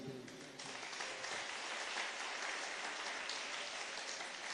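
A church congregation bursts into strong applause, a dense, loud, steady clapping that fills the space and keeps going without a break.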